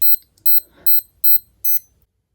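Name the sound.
fake Casio G-Shock GMWB5000 watch alarm beeping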